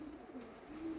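Pigeon cooing near a garage, a low steady coo that swells toward the end of the short stretch, alone with no talk.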